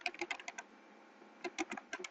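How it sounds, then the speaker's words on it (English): Typing on a computer keyboard while building a website page, two quick bursts of close, crisp key clicks separated by a short pause, no voices. "Sorry about my typing."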